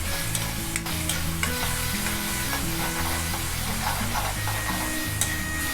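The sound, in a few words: onions and tomatoes sautéing in a pan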